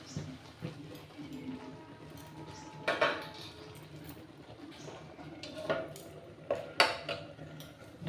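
A lid goes onto a cooking pot of sweet, sour and spicy Kashmiri raw mango pickle, giving a few light metallic clinks and knocks spread over several seconds against quiet kitchen background.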